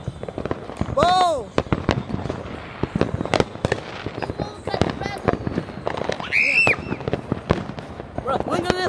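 Fireworks display bursting repeatedly, with many sharp cracks and booms, some whistling rising shells, and crackling throughout, heard fairly close while people exclaim and talk over it.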